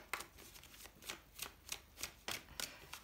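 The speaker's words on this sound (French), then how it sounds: "Je vais tirer une autre carte quand même pour voir." Tarot cards are riffled and shuffled from a deck, a quick series of soft, crisp flicks in an irregular rhythm, close and quiet.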